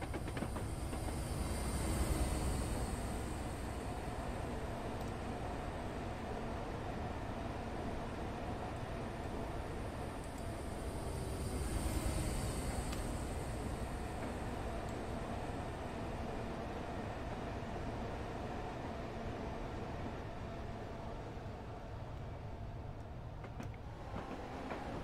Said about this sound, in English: High speed GWR train, a class 43.